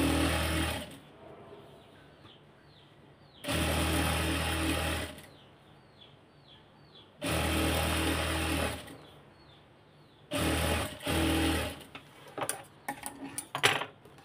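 A sewing machine stitches fabric for a sleeve design in four separate bursts of a few seconds each, then gives way to small clicks and handling sounds.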